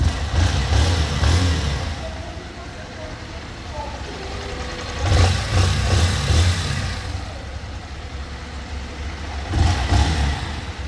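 A 2025 Honda Start 160 motorcycle engine runs steadily with a full, throaty tone, swelling in two or three brief surges over a continuous rumble, with voices talking over it.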